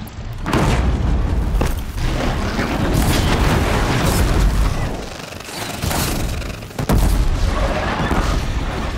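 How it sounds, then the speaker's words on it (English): Heavy, rumbling explosions blast in Horizon Zero Dawn, a long, dense roar broken by sharper booms and cracks, loud and continuous with no speech. "An explosion."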